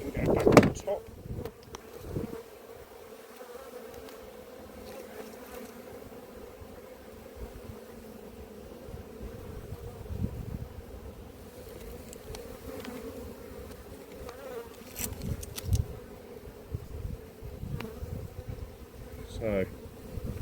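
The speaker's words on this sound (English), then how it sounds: "there's a good lot of bees coming in here, so they will need some space soon" Honey bees buzzing around an open apiary hive with solid floors, a steady drone that carries all the way through, with occasional knocks and handling sounds of the hive.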